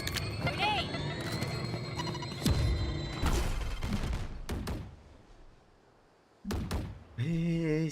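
A grenade goes off in the tactical shooter Valorant, with heavy thuds and bursts of noise amid busy game sounds. A lull follows, then more impacts and a voice at the end.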